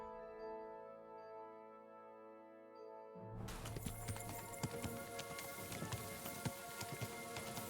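Horse hooves clip-clop steadily over ground in Kingdom Come Deliverance II, a quiet, even rhythm of close footfalls under a rain-like patter with no talk.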